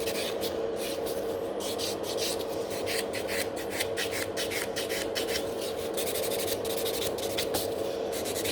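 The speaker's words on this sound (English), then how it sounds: "you just file away the product, make sure it's no on the skin" Gel nail product being filed off a client's nails during a gel rebalance, a steady continuous rasping scrape with rapid repeated strokes, close and fairly loud throughout, with no talking.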